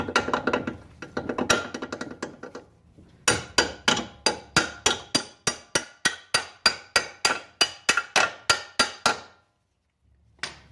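A hammer drives a bolt through a shock absorber mount on an Infiniti G20 during a KYB shock install, with a flurry of quick metallic taps and then a long, steady series of ringing strikes at close range.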